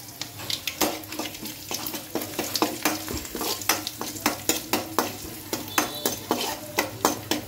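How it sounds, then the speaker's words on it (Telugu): Cabbage stir-fried in a pan of tempering with green chillies and asafoetida, giving a steady sizzle and fry under rapid, regular scrapes and clinks of a spatula against the pan, close and alone. "సో ఇప్పుడు క్యాబేజీ యాడ్ చేసాము, సిమ్లో పెట్టుకుందాము."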